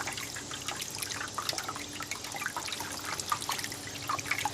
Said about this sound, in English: This is just how fast my water is, but you know what? It's better than not having running water at all